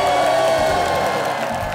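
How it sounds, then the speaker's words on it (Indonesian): A studio audience on an Indonesian game show applauds the three contestants, steady close clapping and crowd noise sustained throughout. "Tepuk tangan dulu untuk mereka bertiga"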